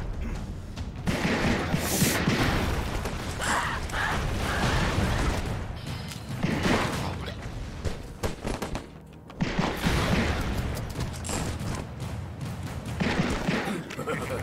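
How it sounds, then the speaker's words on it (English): Explosions and gunfire-like blasts from the video game Broforce crack in rapid, irregular bursts throughout, loud and close, with a voice talking at times. "where are all these explosions coming from?"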